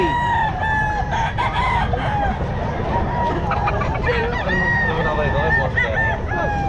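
Roosters and other fowl at the busy Bocaue pet market, including a Kalawayon bull stag, crow and cluck repeatedly amid overlapping bird calls, with people talking in the background.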